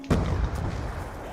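Grenade blasts in a zombies video game: one heavy low boom lands early and rolls out into a dense rumbling tail that stays loud to the end.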